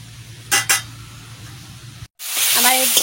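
Pipul leafy greens fry in a pan with a soft, steady sizzle, broken by a couple of quick scraping stirs; after a brief cut a louder hiss rises and a voice speaks over it.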